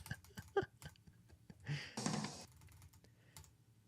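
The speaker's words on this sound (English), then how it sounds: "My keyboard sounds super clicky." Clicky computer keyboard typing, a scatter of sharp key clicks with a brief heavier clatter in the middle, close and fairly quiet against a low background.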